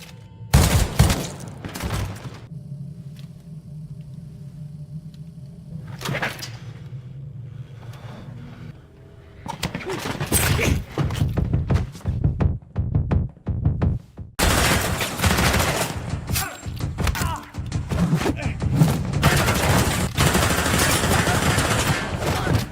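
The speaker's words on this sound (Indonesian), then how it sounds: "Pak Kim yang melihat itu menyuruh anak buahnya untuk menembaki langit-langit gudang" Gunfire in a film scene set inside a warehouse, with sharp loud shots and bursts fired at the ceiling, some spaced apart and then dense rapid volleys over a noisy, roaring background.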